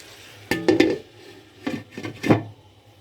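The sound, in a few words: pot being covered with a lid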